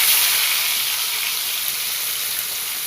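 Fish frying in hot oil for Nellore-style fish curry, a steady dense sizzle and hiss throughout, close and loud, with no voices.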